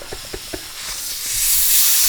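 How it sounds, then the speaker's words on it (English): Gas hisses from a leaking nitrous bottle fitting, a broad steady hiss building over a couple of seconds after a few light taps, close and without talk. "what you got right there is a leak"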